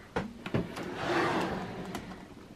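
A drawer of an Alex drawer unit in a beauty room slides open, with a few quick knocks and taps followed by a smooth rolling scrape lasting about a second.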